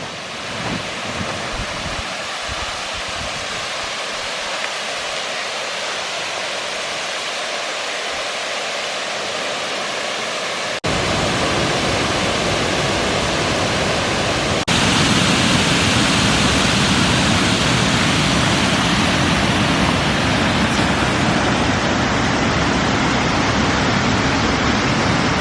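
A waterfall cascade near Graulhet rushes in a broad, steady roar that grows louder and closer as the recording goes on, with wind buffeting the microphone.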